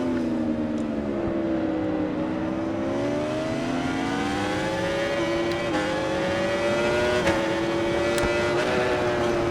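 A Yamaha superbike engine in the RIDE 4 racing game, revving continuously with rising and falling pitch as it accelerates and shifts, a steady loud whine with no talking.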